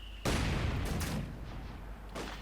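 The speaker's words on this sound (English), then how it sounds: "There you go, battery unleashes hell." Artillery battery firing in Company of Heroes 2, a heavy blast erupting after a brief quiet start, followed by rumbling booms and a further distant crack near the end.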